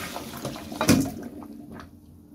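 Water from a cooking pot splashes and pours briefly into a container while making Chinese herbal soup, with a louder gush in the middle before trailing off into quiet dripping.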